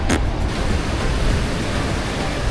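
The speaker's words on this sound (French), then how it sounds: "Et les vagues sont énormes." Huge ocean waves roll in at a Bali beach, a loud continuous roaring wash of surf with wind buffeting the microphone and no voices.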